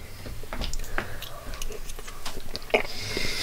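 Someone eats a cauliflower cheese and caramelized red onion pie: soft, close chewing and small clicking bites, quiet and irregular, with faint breaths between.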